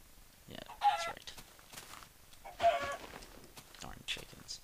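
Chickens in the video game Minecraft cluck in two short bursts with scattered softer clucks between, fairly close over a quiet background.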